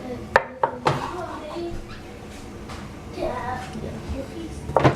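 Sausages sliced with a knife on a cutting board while prepping a seafood boil, a few sharp chopping taps near the start and one more at the end, with people talking throughout.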